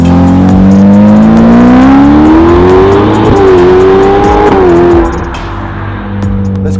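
A Ferrari F8 fitted with sport catalytic converters and a flap-actuated Novitech rear muffler revs hard with the flaps open, a loud, close, rising engine howl that climbs in pitch, wavers, then drops back as the throttle eases off.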